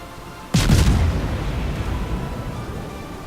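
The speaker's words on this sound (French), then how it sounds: "Tire avec seulement 2 tourelles." Naval guns on a warship in World of Warships fire from two turrets, a sudden loud boom about half a second in followed by a long rumbling decay that fills the rest of the moment.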